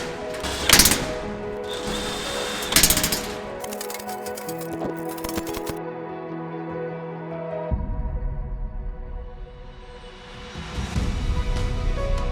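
Bolts are screwed in and tightened on farm equipment near a tractor, with a power tool and ratcheting mechanisms working in bursts. Sharp clicking and whirring sounds occur close by, separated by quieter mechanical hum, with no speech.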